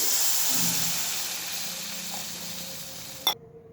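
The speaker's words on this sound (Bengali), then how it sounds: "টমেটোটা নরম হয়ে এসছে। এবার দিয়ে দেব জল।" Water added to softened tomatoes frying with salt in a pan for South Indian upma, a loud steady sizzle and hiss of steam close up that fades out, ending in a short clank.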